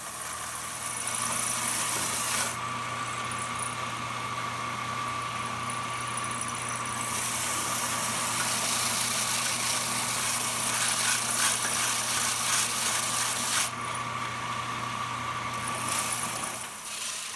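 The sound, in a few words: belt sander sanding the sides of a guitar neck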